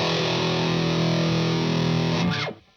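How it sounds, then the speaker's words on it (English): Heavily distorted electric guitar sustains a thick, buzzing chord through a distortion pedal, loud and constant, then pitch-bends down and cuts off sharply near the end, leaving near silence. "Now, we have all this distortion."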